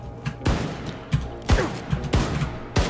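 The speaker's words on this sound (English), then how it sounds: "Blazkowicz, hop on the nuclear cannon and fire it to maximum distance" Heavy weapon fire in Wolfenstein 2: The New Colossus, a nuclear cannon being fired, comes as a run of loud, sharp booming blasts about every half second, each with a thudding low impact.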